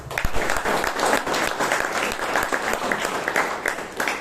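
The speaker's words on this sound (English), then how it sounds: "Better round of applause." Lively audience applause at a Toastmasters club meeting in Bangalore, many hands clapping in a dense, continuous burst that holds at a fairly loud, even level with no speech over it.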